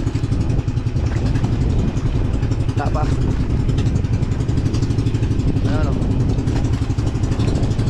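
Boat engine running at sea amid waves, a steady loud droning rumble throughout, with people talking over it.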